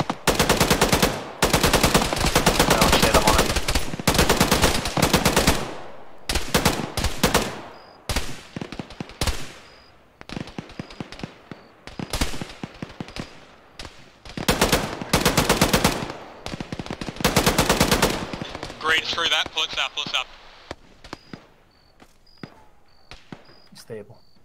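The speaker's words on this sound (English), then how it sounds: "2, use them ARs. Light them up." Automatic rifles lay down suppressing fire in an Arma squad battle with the ShackTac group, loud rapid bursts repeating for long stretches with short pauses between, then tapering to lighter scattered shots near the end.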